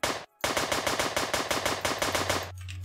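Rapid automatic gunfire from a video game firearm in Apocalypse Rising 2, a short burst, a brief gap, then a long steady run of close, loud shots ending abruptly.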